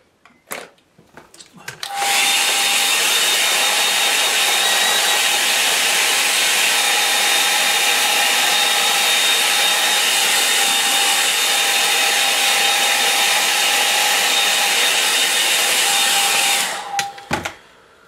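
A hair dryer blows over a watercolour painting, switched on after a few clicks and then running loud and steady with a constant whine for about fifteen seconds before cutting off.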